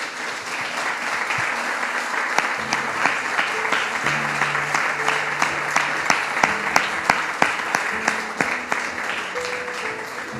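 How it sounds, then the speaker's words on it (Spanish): A church congregation claps together in praise during an evangelical Spanish-language service, loud sustained applause with sharp individual claps standing out over faint sustained tones from an instrument underneath. "Denle un fuerte aplauso al Señor."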